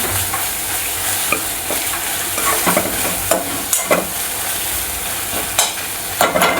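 Masala spice paste fries in oil in a pan for a Kolhapuri-style mutton and vajdi dish, a steady close sizzle broken by repeated scraping stirs of a spoon against the pan.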